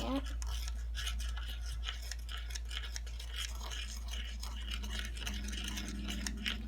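Toy food being mixed for a Baby Alive doll, a steady close scraping and stirring sound running continuously over a constant low mechanical hum.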